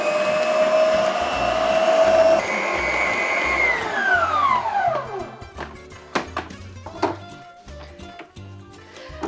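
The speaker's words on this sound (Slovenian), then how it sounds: "Ponovno v naš robot, ki nam je vedno v pomoč, in zamesimo." A kitchen machine's motor whirs loudly, its pitch sliding down as it slows, then gives way to repeated thumping and knocking as gluten-free dough is worked.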